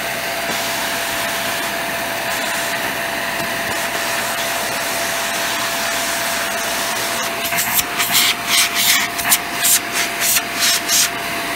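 A Eureka Air Excel compact vacuum cleaner runs with a steady whirring roar and a tonal whine, nearby and constant, then the airflow breaks into a series of fluttering surges near the end.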